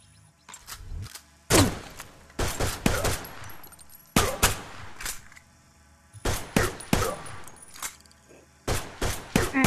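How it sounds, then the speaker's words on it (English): Pistol shots ring out in the VR shooter Stride, sharp loud cracks fired in quick clusters with short pauses between bursts, some overlapping with other gunfire and mechanical clicks. "Take a pistol and shoot 7 times."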